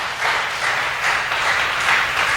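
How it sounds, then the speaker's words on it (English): Church congregation clapping hands together in worship, a steady crowd applause with slight swells, fairly close and alone without talk. "Clap hands for Jesus"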